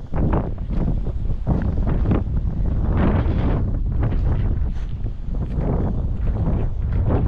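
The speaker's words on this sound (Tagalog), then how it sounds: "Grabe na naman sa lakas ng hangin." Strong wind buffets the microphone in continuous loud gusts, a rough rumbling roar with no clear pauses.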